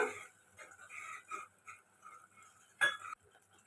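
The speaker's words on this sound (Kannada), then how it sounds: "ಕಡಲೆ ಹಿಟ್ಟಿಗೆ ನೀರು ಹಾಕ್ಕೊಂಡು ಕಲಿಸ್ಬಿಟ್ಟು ಹಾಕ್ತಾ ಇದ್ದೀನಿ" A spoon stirring gram flour into water in a bowl for a potato and green pea curry, giving light scattered clinks and scrapes against the bowl, faint and close, with one sharper knock near the end.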